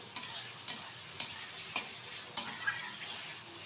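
Soybean chunks, squeezed dry and coated with salt and turmeric, fry in a little oil. A steady, gentle sizzle is punctuated by periodic light taps and scrapes of a spatula against the pan. No one speaks.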